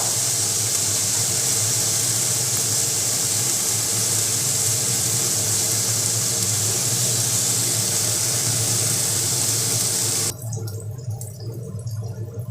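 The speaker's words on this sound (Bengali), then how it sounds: "একটু পেঁয়াজটা ভাজা হতে দেবো সামান্য একটু লাল কালার হওয়ার মতো" Onion frying in a pan while cooking a potol bhorta recipe: a steady, loud sizzling hiss that holds evenly for about ten seconds, then drops to a quieter crackle.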